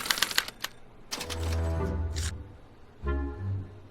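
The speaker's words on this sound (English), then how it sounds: "they're relayed to this special typewriter, which prints out a punch card that represents the subject's mind map" A special typewriter printing a punch card in the Back to the Future game: a rapid burst of clacking strikes, then a longer whirring mechanical run with a ding-like tone, and a final short mechanical clunk and hum.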